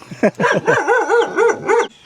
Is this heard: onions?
no